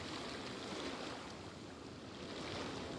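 Calm ocean waves in the video game Genshin Impact make a steady, soft surf wash with faint wind, even and continuous throughout, no speech.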